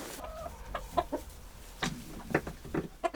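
Chickens being kept on a snowy mountain farm at Gombaeryeong cluck in short bursts and brief squawks, close and fairly loud, scattered irregularly over quiet background noise.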